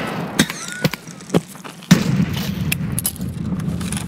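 A grenade detonating in Escape From Tarkov: a sharp, loud blast strikes after several smaller thuds and clicks, followed by a rumbling, debris-filled tail that lingers for a couple of seconds.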